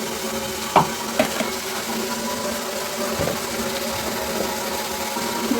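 Chicken sizzles as it fries in a pan with spices while being stirred, a steady close hiss broken by a few sharp scraping clicks from the stirring.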